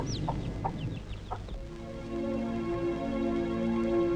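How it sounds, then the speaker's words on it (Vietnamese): Chickens cluck and peep in a rural Vietnamese village setting from a war drama film, a few short calls early on, then a steady background hum takes over. "À, chúng mày ơi, gà con kìa."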